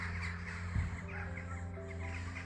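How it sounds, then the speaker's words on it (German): Crows caw repeatedly in the distance on an evening walk outdoors, harsh calls layered over a steady low background hum, with no one talking. "da sind die Vögel wieder unterwegs"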